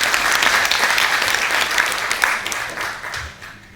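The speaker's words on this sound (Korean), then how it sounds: "힘찬 박수로 서쪽 사람들을 맞이해 주시기 바랍니다" Dense, steady applause from an audience at a 2019 memorial ceremony for Dr. Lee Young-chun, sustained loud throughout before tapering off in the final second.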